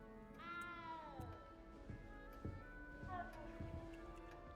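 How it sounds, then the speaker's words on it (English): A cat meows in the video game Hogwarts Legacy, a long drawn-out wailing meow followed by a shorter second one, set over rhythmic ticking footsteps and game ambience. "You don't need to be frightened, little cat."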